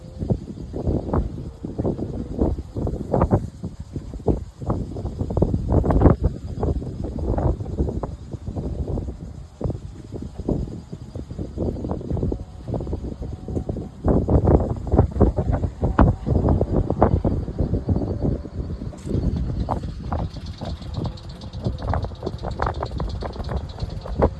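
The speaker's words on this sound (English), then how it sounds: "the wind is blowing pretty darn good" Strong gusty wind buffets the microphone in irregular rumbling bursts aboard a sailboat at anchor, loud and close, with no voices heard.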